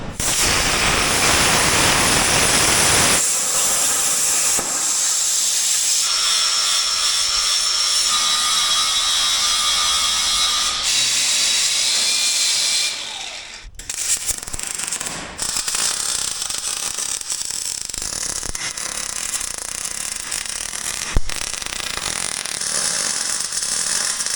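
Steel gussets being cut and welded for a small off-road wrecker build, with loud continuous grinding and welding noise that shifts tone partway through, then harsh buzzing workshop tool sound with no talking.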